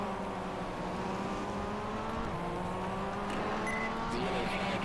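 Cadillac LMP1 race car with a dark V8 engine running steadily at Daytona in the GTR2 racing game, a continuous loud engine drone with shifting pitch and no break across the whole stretch.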